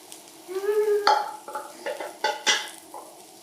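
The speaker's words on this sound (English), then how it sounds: "Now we're just waiting a little bit for it to fry a little bit." Takoyaki batter fries in a takoyaki pan, a light sizzle broken by several sharp metallic clicks and scrapes as the balls are stirred and turned, close and moderately loud with no talking.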